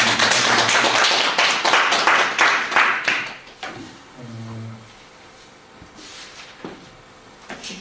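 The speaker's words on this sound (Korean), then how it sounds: "주님 앞에 영광의 박수 드리겠습니다" A church congregation claps in praise, a loud dense round of hands that fades after about three seconds, leaving scattered faint taps and a quiet room with a soft low tone.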